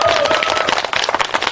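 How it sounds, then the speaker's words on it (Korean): Residents at a village meeting in Yeonsan-myeon, Nonsan, clap together in a short burst of applause that is loud and close, with fast uneven hand claps that thin out toward the end. "함께 해주실 거면 마지막으로 큰 박수 한번 부탁드리면 어떨까요?"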